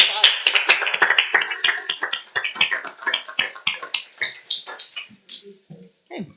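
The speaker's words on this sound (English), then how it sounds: "Round of applause." Applause at a city council meeting: a room of people clapping together in a dense, lively burst that thins to scattered claps, with murmuring voices underneath as it dies away.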